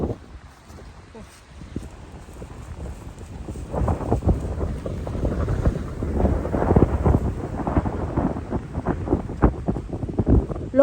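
Strong wind gusts roar through a rural farm field where trees are breaking, with a steady low rumble that grows louder and more turbulent partway through.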